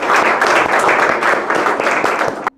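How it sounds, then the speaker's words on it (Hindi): Audience applause for school contestants in a KBC-style quiz show, a dense, loud burst of many hands clapping that holds steady for a couple of seconds and then stops abruptly. "जोरदार तालियां बजाएं"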